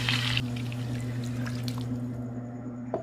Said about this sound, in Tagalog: Maglagay po tayo dito ng kaunting tubig